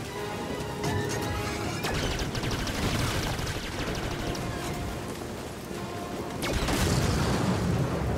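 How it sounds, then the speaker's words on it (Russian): Blaster fire and crashing impacts in the video game Star Wars Jedi Fallen Order, played on a GTX 780, with repeated sharp bursts over a loud, rumbling background, strong hits near the start and end. "Надо успеть между выстрелами."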